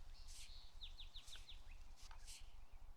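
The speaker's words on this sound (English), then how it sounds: "there's even like birds and the sound of trains and stuff in the background" Faint, high bird chirps in a video game, in quick descending trills over a low steady hum, distant and soft in the background.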